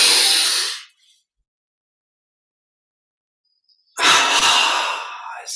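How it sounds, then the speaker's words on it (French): A deep breath drawn in through the nostrils during guided meditation, one breathy rush before a long silence and a second strong, close breath sound. "on inspire par les narines profondément sur 5"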